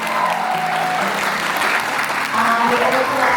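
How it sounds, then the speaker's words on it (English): At a women-in-business evening event, an audience gives the panelists a loud, continuous round of applause, with voices and cheers mixed into the dense clapping. "just give our panelists a big round of applause"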